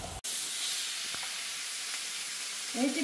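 Young meat frying in a cast iron skillet, giving off a steady broad hiss and sizzle that stays even and close, with a short voice coming in near the end.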